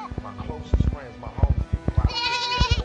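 Goats bleat repeatedly up close, several wavering cries overlapping, mixed with a person talking and other nearby handling noise.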